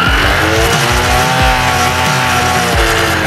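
A motorbike engine revs hard as the throttle is opened, with its exhaust blowing up a large balloon fixed over the silencer. The engine roars loud and constant throughout, and several rising rev sweeps repeat every second or so.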